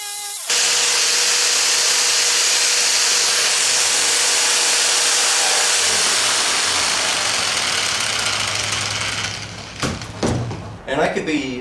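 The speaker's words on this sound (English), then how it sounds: "And I'm just going to use my jigsaw for now." A jigsaw cuts through plywood with a loud, continuous high buzz lasting about nine seconds, then stops, followed by brief clattering handling noises nearby.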